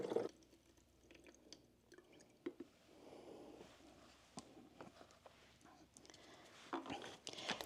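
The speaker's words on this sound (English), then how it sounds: "I will then take my gold solutions and pour them back into the container that they came out of." Gold plating solution being poured back into its storage container, a soft trickle and drip of liquid with small splashes, faint and close, in a quiet room.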